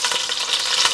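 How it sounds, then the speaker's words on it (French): Meat sizzles briskly in four tablespoons of hot oil in a pan, a steady close hiss and crackle with no talking over it. "Et là, je vais mettre la viande. À revenir."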